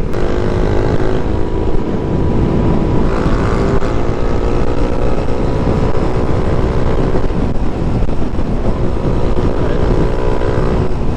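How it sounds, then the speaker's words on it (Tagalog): A TMX125 motorcycle with an aftermarket Yutaka exhaust pipe drones loudly and steadily with a throaty exhaust, wind rushing across the microphone throughout. "Naririnig nyo ba yung pipe natin?"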